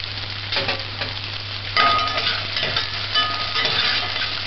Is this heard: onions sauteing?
yes